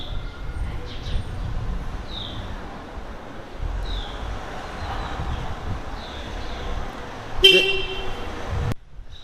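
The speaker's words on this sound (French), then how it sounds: "il y a un taxi qui m'a klaxonné" Near the old city walls of Jerusalem, a taxi sounds its horn in one loud, sharp blast on a narrow street, following quieter passing traffic noise and chirping birds, before the sound abruptly cuts off.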